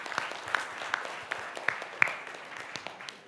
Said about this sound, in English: a big round of applause to my young friend, Sachin Pilot.